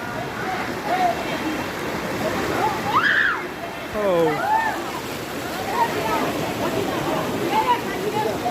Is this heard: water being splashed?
yes